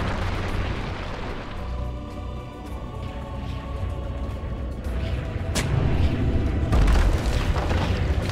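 Booming explosions from towers under attack in a Dota 2 match at the 30th Southeast Asian Games, Thailand versus Laos, rumbling steadily under game ambience with a sharp burst near the middle and heavier blasts toward the end.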